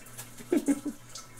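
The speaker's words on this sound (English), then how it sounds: "So much water's coming out of there." Liquid drains and drips from cooked ground beef in a home kitchen, a few soft splashes in quick succession over a faint watery background.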